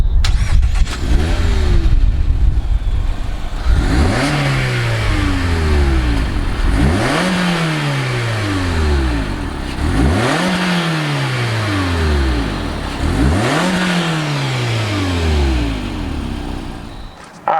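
A 2019 Mazda MX-5 RF with a 2-liter inline-four cranks and fires at the start, then settles into a steady idle broken by four strong throttle blips, each rising sharply and falling away. The engine is loud and close, with no talking.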